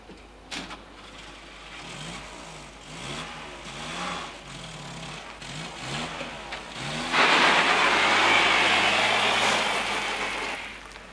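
A car engine cranks and catches, then a steady mid-pitched idle holds before a louder surge of revving near the end, all close by with no voices over it.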